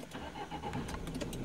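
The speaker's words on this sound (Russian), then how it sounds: "Запускаем мотор. Даже здесь в салоне ощущается звук этого двигателя." A 2010 Subaru Legacy diesel boxer engine cranks and catches, heard from inside the cabin as a steady mid-level rumble settling into idle, with no talking over it.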